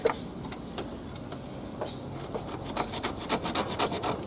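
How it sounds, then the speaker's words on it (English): The back of a knife scrapes Douglas fir fatwood in quiet, irregular rasping strokes up close, short scratchy rubs that grow a little busier toward the end, with no talking. "Not sure if the back of this is straight enough to scrape, but we'll give it a try."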